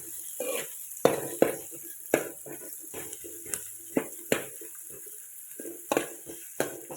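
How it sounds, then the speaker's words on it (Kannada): Onions stirred while frying in a pan, with repeated sharp scrapes and clinks of a spoon against the metal every second or so over a quiet sizzle, close and sparse. "ಸೊ ಈರುಳ್ಳಿಯನ್ನು ಚೆನ್ನಾಗಿ ಫ್ರೈ ಮಾಡಬೇಕು."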